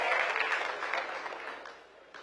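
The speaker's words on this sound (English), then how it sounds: "Give them a great round of applause." An audience applauds at a civic panel event, a burst of clapping that fades over about two seconds, heard at a moderate distance.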